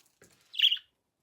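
Pet bird giving a single sharp squawk after a few soft faint chirps, close and alone, then silence.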